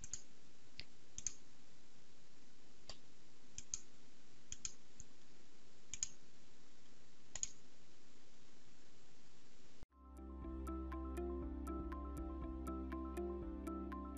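Computer mouse clicks while working in STAAD.Pro structural software: a few sparse, faint, sharp clicks over a quiet background, followed by a sudden burst of louder tonal music that carries on to the end.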